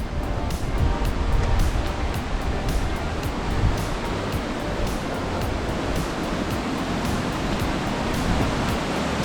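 Waterfall on Sulphur Creek in Capitol Reef National Park, Utah, a steady broadband rush of falling water heard close up and continuously, with no voices.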